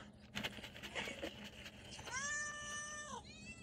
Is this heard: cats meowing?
yes